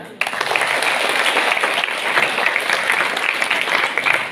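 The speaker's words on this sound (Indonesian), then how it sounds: "Tepuk tangan." An audience at a school gathering in Mojokerto breaks into applause. The dense, continuous clapping starts sharply and stays loud and even throughout.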